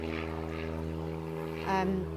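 A propeller aeroplane drones steadily overhead at a distance, its even engine hum continuous throughout, with a faint voice-like sound near the end.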